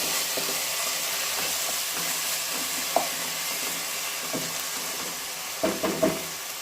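Tomato masala for paneer kofta fries over a medium flame with a constant sizzle, and a spoon stirs and scrapes the pan now and then, adding a few sharper clinks near the end, with no speech.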